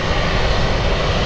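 A Brazilian Air Force Airbus C30, an A330-200 jet, takes off from Guarulhos, its engines giving a loud, steady, broadband roar that stays constant and close throughout with no voices.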